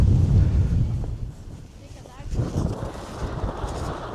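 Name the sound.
strong wind on a mountain top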